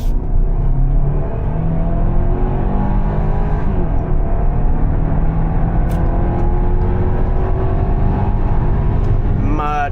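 A 2026 Hyundai Santa Fe SEL accelerating hard onto a highway, heard from inside the cabin as a loud, steady engine drone rising in pitch with road rumble underneath.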